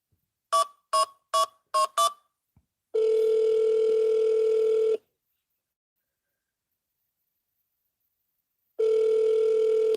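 Five quick keypad dial tones followed by two long ringing tones, separated by a silent gap, from a phone call in the mystery game Duskwood; clean, close and with no talk.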